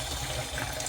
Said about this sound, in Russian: наливаем в тазик воду примерно 40 градусов